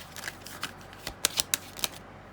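A deck of cards is shuffled and drawn for a reading: quick papery riffles and several sharp snapping flicks come close together in a short, brisk burst.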